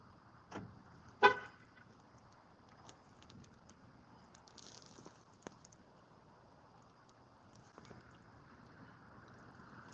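A car horn gives a couple of short chirps near the start, one brief and one louder, over faint wind noise outdoors, with a few soft knocks and clicks later.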